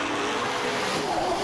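Super Sedan race cars roar around the Gympie Speedway dirt track in a loud, continuous blur of engines, with tires squealing and skidding through the turn.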